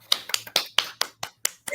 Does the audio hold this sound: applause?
yes